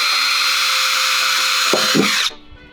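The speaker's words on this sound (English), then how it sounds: "Right there in the middle of that little area, we're gonna drill a hole." A power drill whines steadily as it bores a hole in a new Ford Bronco tailgate, loud and close for about two seconds, then a brief grinding burst before it winds down and stops.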